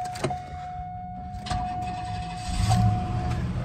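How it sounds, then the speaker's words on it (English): A 1993 Cadillac Coupe DeVille starting up, a brief cranking burst followed by the engine catching and settling into a low idle, heard close with a steady background tone. "we want to start the car up"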